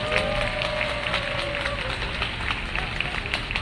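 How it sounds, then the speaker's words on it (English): A crowd applauds steadily for a campus development project officer at the blessing of the Xavier Ateneo Sports Centre, a dense, even wash of clapping that fills the whole stretch without letting up. "Let us give a round of applause to the XU Campus Development Project Officer, Engineer Noemi Nakunao."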